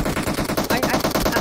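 Rapid automatic gunfire from the battle royale game PUBG Mobile, loud bursts of repeated shots in a steady rhythm running through the whole moment, with no talking.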